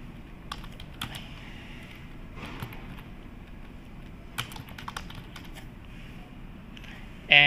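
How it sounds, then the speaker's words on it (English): Fingers tap a computer keyboard in short, quiet bursts of clicks with gaps between them, close by against a low room hum. "Let us type"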